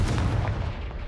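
A Confringo blasting spell cast in the Hogwarts Legacy video game, a loud, dense burst of booming crackle that rolls on and fades slightly across a second, with no talk over it.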